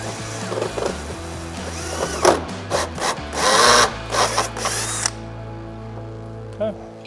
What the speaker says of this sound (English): brace the splitter on the bottom with your hand and drill through